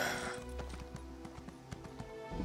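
Horse mount in The Elder Scrolls Online clip-clopping at a steady gallop, a quick regular stream of hoofbeats over a low game ambience, with no one talking.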